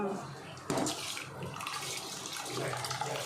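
Rice pours and patters steadily into a pot, a broad rushing hiss that starts abruptly and continues, with people talking over it.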